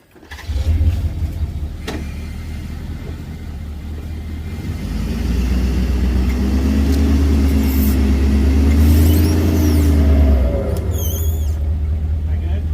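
A 1962 Ford F100 Unibody pickup pulled from the woods turns over and runs, its engine settling into a steady low rumble that swells louder and holds, with a few mechanical clanks and squeaks near the end.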